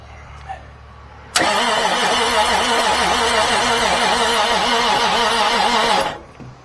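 A 1989 Marmon truck engine bursts into a loud, steady idle for about five seconds, then winds down and falls silent when its fuel solenoid is pulled.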